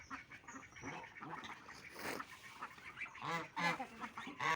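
Household ducks quacking and honking in a lively, overlapping chorus of calls, close by and fairly loud, with no talk.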